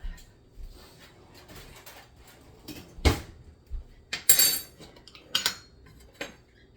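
A spoon scrapes and clinks against a jar of Tostitos salsa con queso in a home kitchen. Scattered sharp taps and knocks sound close and fairly quiet, separated by short pauses.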